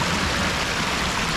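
A river flows close by, a steady, full rush of water with no pauses and no talk.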